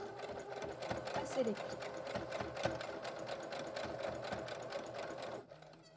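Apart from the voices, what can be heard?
sewing machine sewing fabric face mask with backstitch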